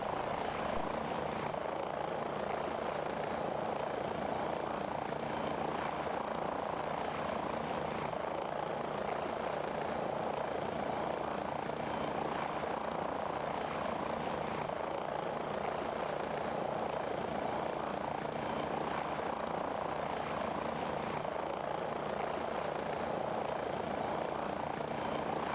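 Helicopter rotor and engine sound in the FlightGear flight simulator, with a CH-47 or UH-1N, a steady loud droning whine and whir that continues unbroken throughout, with no talk.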